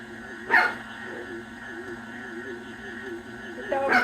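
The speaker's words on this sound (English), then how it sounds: "The dogs bark at anything." Dogs barking in a home kitchen, two sharp loud barks, one near the start and another near the end, over a steady background hum with a person speaking softly in between.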